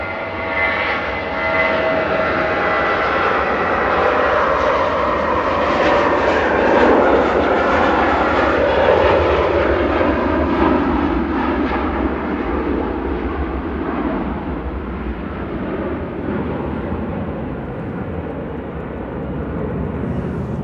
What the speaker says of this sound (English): operating this 28-year-old A321 back over to Frankfurt with flight 947 for Lufthansa